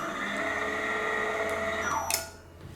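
A Richmond sliding gate motor spins its gear cog on remote command, giving a steady, close mechanical whine with a tonal hum that rises briefly and then cuts off near the end.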